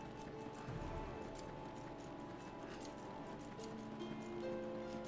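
A horse in Black Desert Online trots along with steady, rhythmic clip-clop hooves, fairly close and moderately loud, accompanied by faint rustling, with no talking.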